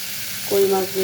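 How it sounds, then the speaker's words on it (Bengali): Drumstick stems and potatoes frying with spices in a pan for koi fish curry, a steady close sizzle with a brief tonal scrape partway through. "এখন আমি ডাটা আলু একসাথে দিয়ে আবার একটু ভালো করে কষিয়ে দিয়ে"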